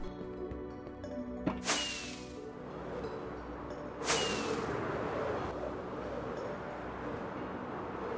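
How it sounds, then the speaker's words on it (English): Two bright whooshing bursts from firework rockets boosting elytra flight in a Minecraft hardcore survival game, spaced about two seconds apart over steady game ambience and music. "I made some rockets and flew straight home."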